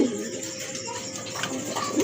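Domestic pigeons of assorted colour varieties in a large collection coo steadily and fairly softly, a low murmuring bed running through the whole stretch, with no talk over it.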